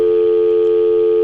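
A steady, unbroken telephone tone from a phone in the video game Manamon, sounding alone and loud for just over a second with no talk.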